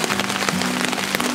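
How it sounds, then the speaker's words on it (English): Heavy rain pours down steadily at a campsite in Big Sur, a dense, continuous hiss of drops close by with a faint hum underneath and no talking. "It's raining. It's pouring rain."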